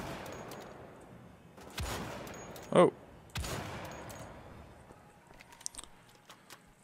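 Gunfire in the shooter game Wolfenstein: The Old Blood comes as a few separate sharp shots and bursts spaced over several seconds, with a brief exclamation from a voice between them.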